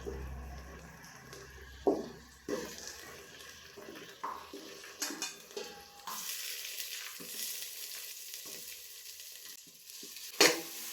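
Onions, tomatoes and green chillies sautéing together in oil for Ambur chicken biryani, a steady sizzle with the scrape and clatter of stirring, plus a few sharp knocks of the spoon against the pan.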